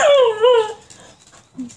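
A dog gives a short, high whining yelp that bends in pitch, then trails off into quiet with a faint low sound at the end.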